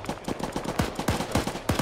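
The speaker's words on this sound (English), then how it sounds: "they've started shooting" Gunfire in a multiplayer WWII-style video game, with repeated sharp shots in a steady, fairly quick rhythm over a short burst, loud and close, alone without talk.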